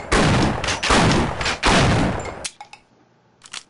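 Weapon fire in the Half-Life video game: rapid bursts of loud gunshots in three or four dense volleys, then a pause with a few scattered metallic clicks and a last short burst.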